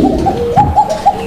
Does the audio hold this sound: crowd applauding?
no